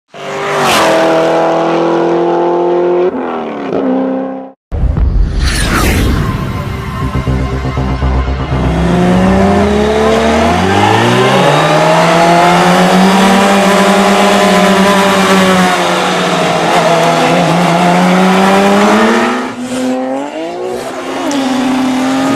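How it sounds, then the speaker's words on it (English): Toyota Supra and Lamborghini racing, loud engines accelerating and climbing through gears with rising and falling pitch sweeps, a sharp break midway, then sustained high revving close by for about twenty seconds. "The Supra allows the Lamborghini a little bit of a jump, knowing that it's got enough horsepower to chase it down"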